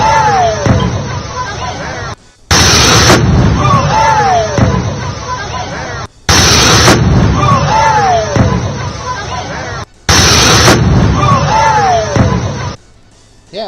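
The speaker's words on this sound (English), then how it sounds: "there were no injuries reported following a propane tank explosion" A propane tank explodes at a NASCAR race, the 2021 South Point 400, with sharp broadband blasts repeating about every four seconds over loud crowd hubbub.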